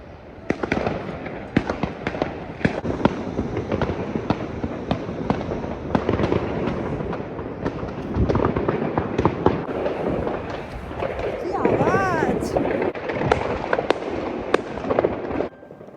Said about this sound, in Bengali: এই যত বাজি দেখা যাচ্ছে এগুলো কিন্তু সাধারণ মানুষরাই ফাটাচ্ছে আমাদের মতো।